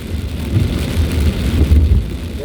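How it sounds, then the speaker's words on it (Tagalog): Heavy typhoon rain (Typhoon Crising) pours steadily around a vehicle on a road trip near Lipa, Batangas, a dense continuous wash with deep low rumbling beneath it, loud and close throughout with no talking. "lumakas na dito ang ulan"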